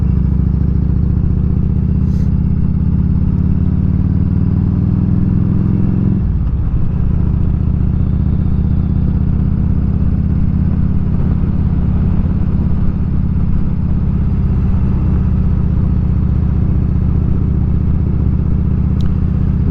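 Harley-Davidson Evo Road King touring motorcycle being ridden, a loud continuous engine rumble with a shift in pitch partway through as it pulls away slowly, no talk.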